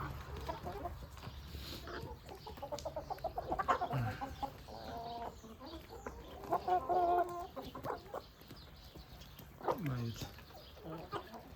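Jersey Giant chickens cluck and murmur nearby in several short bursts, with occasional louder calls, while people talk quietly in the background.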